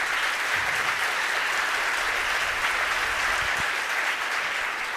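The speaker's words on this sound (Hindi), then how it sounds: "अब जो लोग समझ गए हो जरा जोरदार तालियां बजा देना।" Sustained, dense applause from a religious discourse audience at a Jain question-and-answer session with Muni Pramansagar, a steady wash of many hands clapping at even loudness throughout, with no voices.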